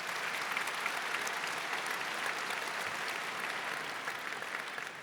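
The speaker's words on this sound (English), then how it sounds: "Wow, big applause" Applause from a large conference keynote audience, a steady dense wash of many hands clapping together, sustained evenly from start to finish at a moderate distance with no voices on top.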